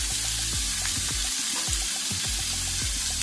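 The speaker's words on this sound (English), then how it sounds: "We can open the lid and get these shrimp on in one nice even layer." Shrimp sizzle on a hot Ninja Foodi PRO XL indoor grill griddle, a steady close frying hiss with soft crackles and occasional clicks, no talking.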